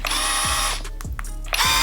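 Skil flip drill with its clutch ring being turned, giving a few quick mechanical ratchet clicks over a steady close motor-like hum.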